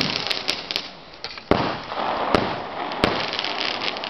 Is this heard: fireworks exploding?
yes